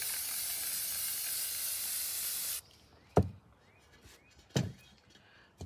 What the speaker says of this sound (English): it's probably because it's a better spray paint too